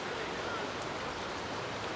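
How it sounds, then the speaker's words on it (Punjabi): Heavy rain falling in Rishikesh, heard as a steady, dense, even hiss that fills the whole stretch with no breaks. "ਆ ਦੇਖੋ ਇੰਨਾ ਜ਼ਿਆਦਾ ਮੀਂਹ ਪੈ ਰਿਹਾ ਨਾ ਬਾਈ ਬਹੁਤ ਜ਼ਿਆਦਾ ਡਿੱਗ ਰਿਹਾ"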